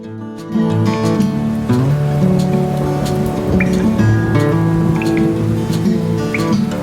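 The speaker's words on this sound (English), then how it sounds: "Our next day begins with downpouring." A heavy monsoon downpour falls steadily at Massanjore in West Bengal, a dense continuous hiss of rain with a constant low rumble, loud and unbroken from start to finish.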